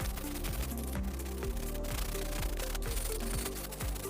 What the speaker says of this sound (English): We're going to grab this cleaning brush from the kit and give everything a good scrub down.